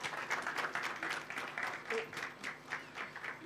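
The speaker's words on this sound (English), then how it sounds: "A round of applause, please." Audience applause at a student debate competition, a moderate crowd clapping in uneven surges that swell and dip, heard at some distance with a faint voice or two mixed in.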